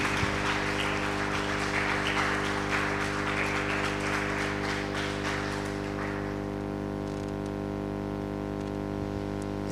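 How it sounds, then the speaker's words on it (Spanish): Applause from a church congregation fills the first six seconds, then fades out, leaving a steady hum behind. "Bien, aplaude al Señor."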